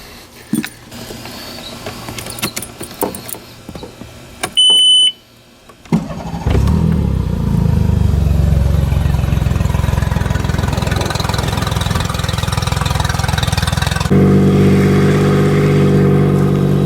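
After some clicks and clatter, a Mercury 40 hp outboard motor on a boat sputters to life and settles into a loud, steady running drone, rising in pitch toward the end as it revs.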